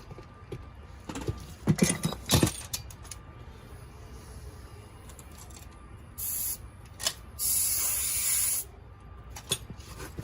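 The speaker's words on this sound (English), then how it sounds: "Let's see if we got any air in the old compressor. And we do." An air compressor blows air during work on a wrecked Honda Ruckus scooter: two sustained hissing bursts in the latter half, one shorter and one longer, after some clanking and handling noises.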